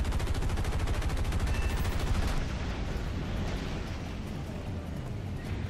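Aircraft machine guns in War Thunder fire in a rapid, continuous burst for about two seconds, a loud rattling stream over engine roar that then drops to a steady droning airplane engine, with no talk.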